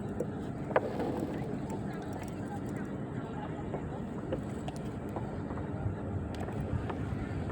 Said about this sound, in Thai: ลมมันพัดนะ